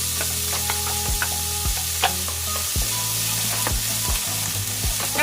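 White onion sizzles steadily in a hot pan for lasagna, a loud continuous fry broken by repeated clinks and scrapes of a utensil stirring, close up with no talking.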